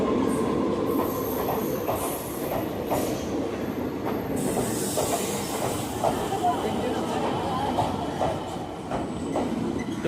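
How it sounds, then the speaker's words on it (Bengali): A train pulls into Bolpur station with a rumbling rattle of wagons, rhythmic clacking of wheels and occasional high squeals, heard steadily from the platform alongside crowd murmur. "তোমরা দেখতেই পাচ্ছ ট্রেন ঢুকে গেল একটা"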